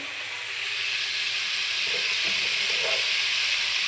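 Potatoes fry and get stirred in a pan over raised heat, giving a steady, close sizzling hiss that runs throughout, with a few faint scraping stirs near the end.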